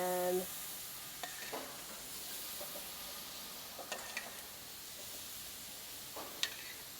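Jerk shrimp in marinade sizzling on a grill, a soft continuous frying hiss with scattered light clinks and scrapes, quiet and close with no talking.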